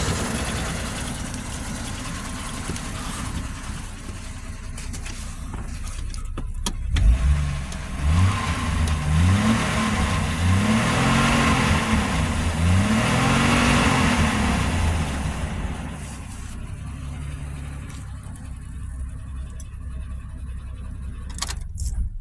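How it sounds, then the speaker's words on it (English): Steady car engine and road noise from a 2004 Chevrolet Trailblazer driving down the highway after transmission reinstallation, with a faint loose rattle under the continuous drone; no talking. "I'm hearing a little rattle, and there wasn't any sounds before."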